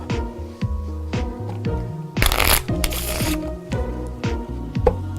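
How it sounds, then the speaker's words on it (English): A deck of playing cards shuffled during a magic show, a close riffle of rapid flutters and taps with a loud burst of cascading cards in the middle. "you're gonna shuffle the cards together"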